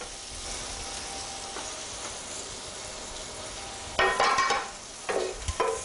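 Fusilli and shrimp are tossed and stirred in a pan over a soft, steady sizzle, with bursts of scraping and clattering from about four seconds in, loud and close.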